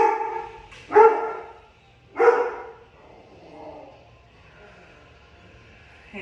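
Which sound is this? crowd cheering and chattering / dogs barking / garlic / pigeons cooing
dogs barking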